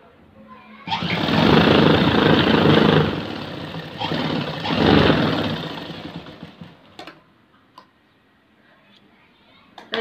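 A sewing machine stitches a chudidhar pant seam in two loud whirring bursts of a few seconds each, then fades to quiet with faint ticks.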